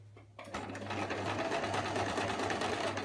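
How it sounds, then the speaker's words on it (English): A sewing machine with a straight-stitch presser foot starts up after a brief pause and runs in a fast, steady, close mechanical whir while stitching around a fabric triangle, with no talking. "So let's get started with sewing around this first triangle."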